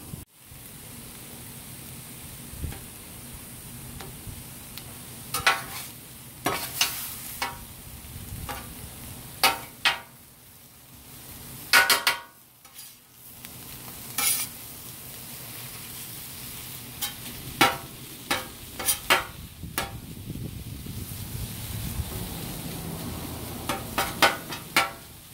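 Reuben sandwich bread toasting on one side in a hot pan: a steady low sizzle with scattered clicks and scrapes, some louder bursts, and no talking.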